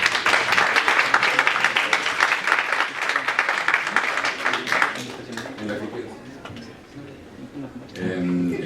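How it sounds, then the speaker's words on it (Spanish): An audience at a physics week lecture applauds to welcome a speaker, dense loud clapping for about five seconds that thins into scattered claps and fades, with a voice speaking near the end. "Lo recibimos con un fuerte aplauso."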